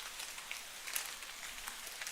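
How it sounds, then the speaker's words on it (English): Raindrops patter on branches and leaves in a forest in Kingdom Come Deliverance 2, a soft, steady hiss of scattered drops with no voices. "other rain sound plays over, so you hear like the drops hitting"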